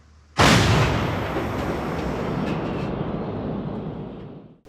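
A single heavy boom from an artillery gun firing on a border, erupting suddenly after a brief quiet and rolling out into a long, loud, decaying rumble.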